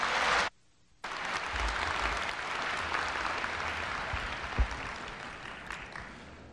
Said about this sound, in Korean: 염재호 총장님을 뜨거운 박수로 맞이해 주시기 바랍니다.